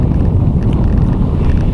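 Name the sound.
wind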